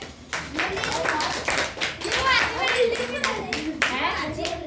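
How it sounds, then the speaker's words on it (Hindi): A class of children in a sixth-grade maths lesson claps in quick, uneven bursts of sharp hand claps, close and lively, with kids' voices mixed in. "ताली बजाओ इसके लिए"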